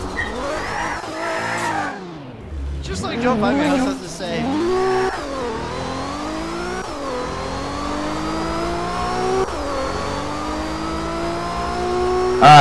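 Car drifting in a police roleplay video game, with engine revving and rising, repeated gear-shift sweeps and tire squeal, loud and continuous while people talk over it.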